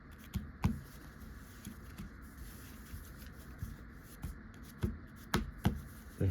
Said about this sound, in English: I've cut cards like this